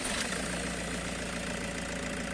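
A Toyota Grandia HiAce van engine, restarted after repair for hard pulling, settles into a steady low idle with an even mechanical rumble and faint knocking, continuous and close throughout, no one speaking.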